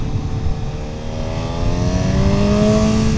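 A Honda CB1000 Hornet SP motorcycle engine accelerates, its loud tone climbing steadily in pitch as it revs up through the gear, close and without speech.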